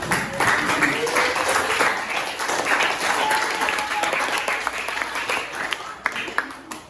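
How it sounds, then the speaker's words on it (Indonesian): An audience in a classroom bursts into applause, steady dense clapping from many hands held for several seconds, loud and near, thinning slightly toward the end. "kita tepuk tangan dulu"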